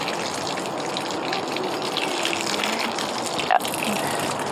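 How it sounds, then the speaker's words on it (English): Water from a spray hose hisses and gushes steadily onto garden plants near a pool, a close, continuous rushing spray with a brief clatter near the end. "Water these now."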